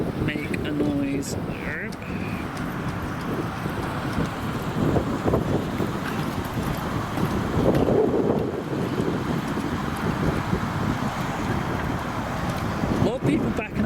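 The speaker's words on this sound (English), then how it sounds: "This wind is bad." Strong wind buffets the microphone at an outdoor car show of modified cars, a steady roar with gusts and low rumble throughout, while faint engine sounds sit underneath and no one speaks.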